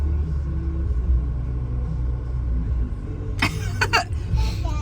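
Low, steady rumble inside a moving car, with road and engine drone throughout and a brief rustle or cough near the end; faint music may sit underneath.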